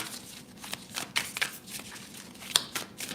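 A deck of cards being shuffled by hand: a quick run of crisp riffling snaps and soft slaps, about ten bursts in an irregular rhythm, close and fairly quiet, with no talking.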